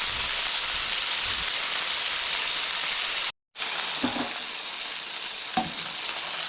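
Food for a salad sizzles loudly in a frying pan, a steady bright hiss with a brief total dropout midway and a few soft stirring clicks afterward; no voices.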